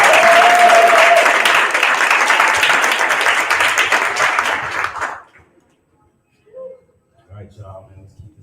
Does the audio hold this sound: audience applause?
yes